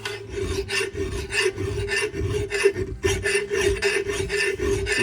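Coarse double-cut bastard file rasping across wood in steady, rhythmic back-and-forth strokes, close and fairly loud with no talking.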